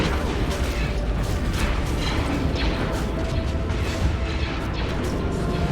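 Battleship weapons fire during a Stellaris space battle, a dense continuous roar of mechanical booms and blasts that layer into a loud, unbroken barrage.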